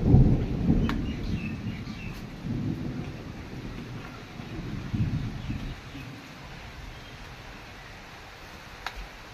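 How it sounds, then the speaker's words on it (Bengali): Thunder rolls in low, deep rumbles over steady rainfall, fairly faint and distant, with the rumbling strongest early and easing toward the end. "মেঘ ডাকছে, বৃষ্টি পড়ছে।"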